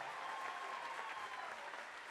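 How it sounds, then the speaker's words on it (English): A concert crowd applauds the players of a steel band performance, a soft, even patter of clapping heard at a distance for a couple of seconds. "Let's give everybody who played on the stage today a nice round of applause."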